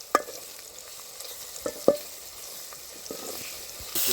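Shrimp and onions fry in a pan with a steady sizzling hiss, punctuated by a few sharp clinks of a utensil stirring against the metal, with no talking.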